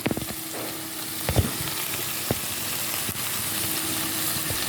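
Kanthari grilled chicken brushed with melted butter cooking on a low flame, a steady close sizzle and crackle with a few sharper pops and clinks, no voices.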